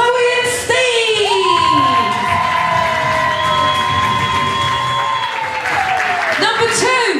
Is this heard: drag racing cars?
no